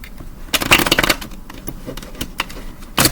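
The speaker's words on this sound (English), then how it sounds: "I don't want to shuffle anymore" Tarot cards being shuffled by hand, with quick papery riffles and flutters coming in bursts, close and fairly loud, separated by brief softer pauses.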